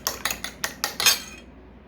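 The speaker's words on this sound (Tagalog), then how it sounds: "Batihin lang natin itong itlog na to" A fork or whisk beats eggs in a bowl for French toast, giving six quick, evenly spaced clinking strokes up close that stop abruptly, with no talking.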